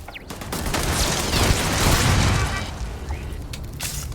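A turret firing at the player in Starfield, a dense burst of booming shots and impacts building to a peak mid-clip, then tapering off with a few sharp pops.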